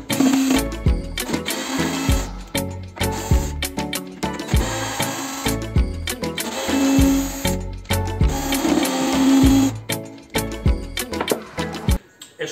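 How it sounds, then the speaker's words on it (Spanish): A Phillips bit in a power driver works a hex screw out of a simple wooden shelf, giving a steady motor whir with rhythmic clicks and knocks throughout, close and fairly loud. "estoy sacando con un tornillo de estrella un tornillo hexagonal"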